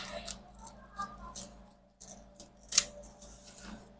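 Scissors trim excess fabric off a fan-style autogele headtie made with sego, producing soft, irregular snips and rustles over a low steady hum, close and quiet, with one sharper cut near the end.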